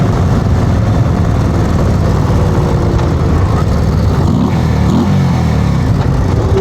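Harley-Davidson 2024 Road Glide CVO ST with the Stage IV 135 engine accelerating hard, a loud, continuous low-pitched roar with strong rumble, steady throughout and close by, with wind noise over it.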